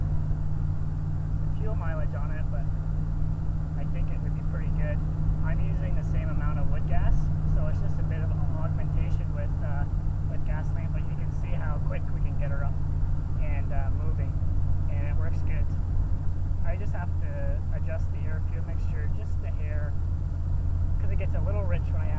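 Car engine running lean on woodgas while cruising on the road, a steady low rumbling drone heard from inside, continuous under someone talking throughout.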